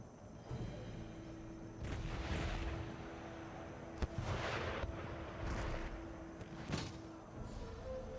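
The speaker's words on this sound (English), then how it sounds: "Howitzers engage the heads of these two enemy columns." Howitzer artillery fire in Empire Total War, a string of heavy booming discharges at irregular intervals, some sharp and some rumbling, over a steady battlefield din.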